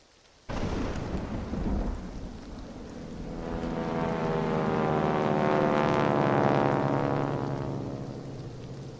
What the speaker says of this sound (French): Des avions de reconnaissance allemands survolent la région de Douvres, dans le sud-est de l'Angleterre.